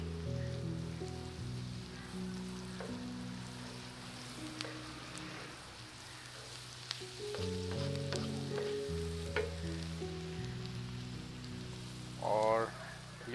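Garlic ginger paste frying on a tawa with chicken mince, a steady crackling sizzle with occasional stirring scrapes, while someone talks over it throughout.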